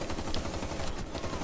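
DMR rifle gunfire in Rainbow Six Siege on PS4, a rapid, loud, continuous stream of shots running through the whole moment with no pauses.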